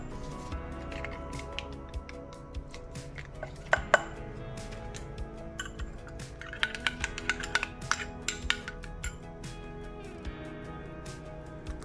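Mayonnaise, ketchup and oregano mix stirred together in a bowl: soft, close scraping and wet squishing with scattered light clinks of a spoon against the bowl, irregular and fairly quiet, no talking.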